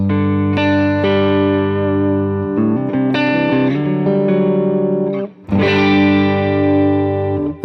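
Electric guitar chords sound through a compressor and a Tone Ranger pedal, sustained and loud, with distinct strummed changes and a brief gap before a final chord rings out.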